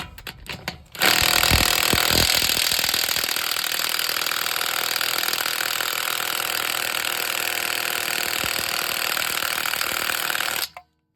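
A battery-powered Bosch 3/8-inch impact driver, about seven years old, runs in reverse under load with a loud, continuous hammering rattle that lasts about ten seconds and then cuts off abruptly.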